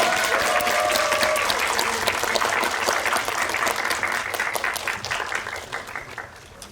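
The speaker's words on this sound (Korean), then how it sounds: "오늘 함께 해주신 세 분께 큰 박수 드리면서 마무리하겠습니다" Sustained audience applause at a special guest screening event for a Korean film, steady dense clapping from a large crowd that gradually fades toward the end, with no speech over it.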